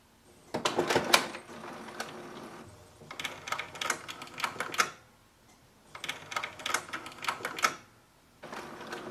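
An HP Deskjet 3700 inkjet printer runs a print-head cleaning cycle, giving rapid mechanical chattering and clicking in three or four bursts of a second or two each, with quiet pauses between them, close by and moderately loud.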